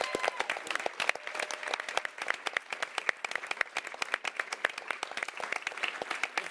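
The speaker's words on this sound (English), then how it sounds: "So if we can give them a round of applause." A theatre crowd at a television panel event applauds the show's director and writers, a sustained sheet of quick, crisp hand-claps from many people, fairly distant and steady from start to finish.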